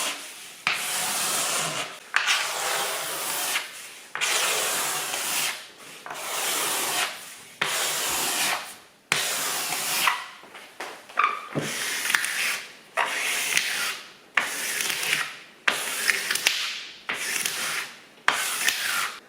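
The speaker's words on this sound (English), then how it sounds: "by using a blade or a scraper like this, you can see how you really do get a lot of the varnish off" A blade scraper pulled repeatedly across a varnished wooden worktop, stripping the varnish in about a dozen rhythmic rasping strokes, close and fairly loud, with no talk.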